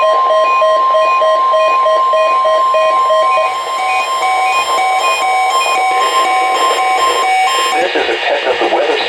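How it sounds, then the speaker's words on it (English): A NOAA Weather Service weather radio sounds its warning alarm tone during a test, a loud, steady high-pitched electronic tone held continuously for several seconds, with a brief shift in the signal near the end. "This is a test of the Weather Service weather radio warning alarm"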